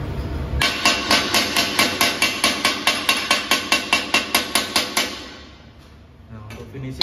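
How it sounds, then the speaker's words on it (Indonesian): A hammer chips slag off a fresh weld bead with about twenty rapid, evenly spaced metallic taps, close and sharp, then stops and leaves a quiet room. "keraknya ini kita perlu bersihkan dulu dengan menggunakan palu"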